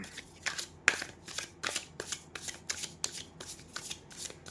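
Tarot cards shuffled by hand in a steady run of about a dozen crisp riffling bursts, close and clear, with no talking.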